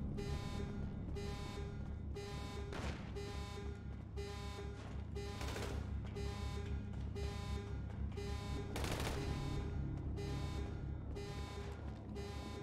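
Rapid gunfire from a GTA V Online shootout, bursts of sharp shots repeating steadily over a constant droning engine-like hum, fairly loud and continuous with no speech.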